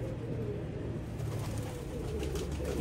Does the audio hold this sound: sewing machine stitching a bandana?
no